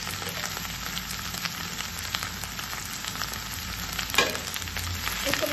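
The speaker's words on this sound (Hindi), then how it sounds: "प्याज शामिल कर रहे हैं" Onions sizzle steadily in a hot nonstick pan alongside softened okra and a little ghee, a continuous close crackling hiss with a brief louder clatter of stirring near the end.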